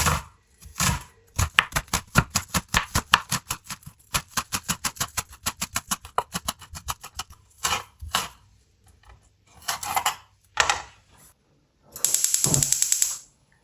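Fresh green onions, freshly washed, are chopped with a knife on a board in a home kitchen: long runs of quick, even close taps with short pauses between bursts, loud and alone.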